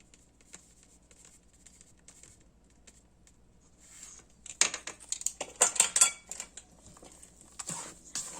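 Cottage cheese casserole batter with baking powder stirred in a bowl, quiet at first, then a burst of clinking utensil scrapes and taps against the dish, close and fairly loud, fading to lighter clinks.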